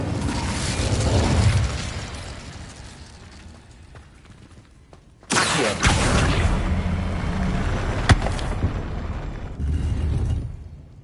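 Incendio fire spell cast in Hogwarts Legacy, a sudden loud burst that flares into a sustained roaring whoosh of flame with crackling pops, preceded by quieter rumbling game ambience.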